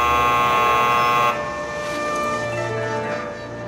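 A steady electronic buzzer drones in a Mobius Final Fantasy game cutscene. It is loud and tonal at first, then drops to a lower level after about a second and a half and keeps going.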